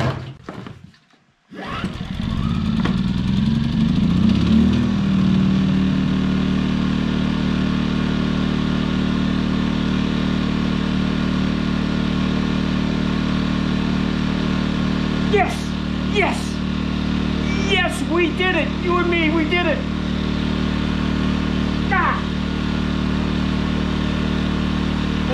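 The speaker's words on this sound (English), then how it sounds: "Choke that engine" A Champion 2000-watt stackable inverter generator starts after a brief pull and settles into a loud, steady close-up engine drone, with brief higher whines and clicks partway through.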